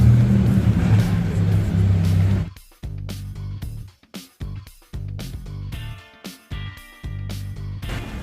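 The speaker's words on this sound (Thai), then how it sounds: "รถก็ติดด้วย" Evening traffic rumbles along a busy London street near shops, a steady low engine drone broken by abrupt gaps and restarts, with passing vehicles close by and no talk.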